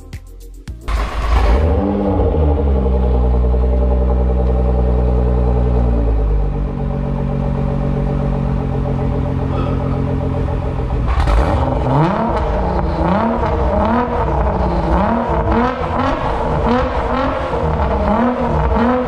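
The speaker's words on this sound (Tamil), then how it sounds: "பட் இந்த காரில் நீங்கள் வந்து எக்ஸாஸ்ட் நோட் எப்படி இருக்குன்னு கேட்டே ஆகணுங்க." A Nissan GT-R exhaust roars as it starts up and idles loudly, then revs repeatedly in rising and falling bursts, close and powerful, with no talk.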